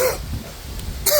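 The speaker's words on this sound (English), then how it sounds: "Sorry about the coughing." A person coughs and clears their throat outdoors in a graveyard, two short harsh bursts at the start and end with quiet ambience between.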